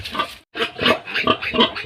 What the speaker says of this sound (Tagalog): Bali, ito yung baboy natin mga kapakpak.